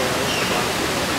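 A waterfall in winter, surrounded by snow, roars in a loud, constant rushing wash of water that fills the whole clip without a break.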